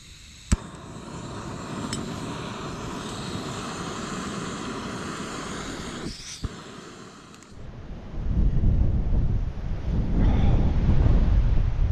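Strong wind roars across a Spanish mountain top at a wild camp, a loud steady rushing drone with faint buffeting, a couple of sharp clicks, then heavier low gusts swelling toward the end.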